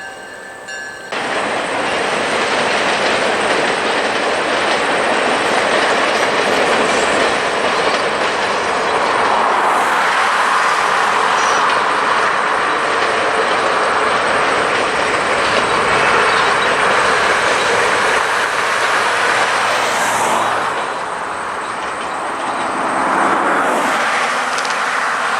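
An Adirondack Railroad train passing on tracks near Stittville, New York, a loud, close, sustained rumble and clickety-clack of wheels that rises sharply, holds for many seconds, then briefly eases near the end.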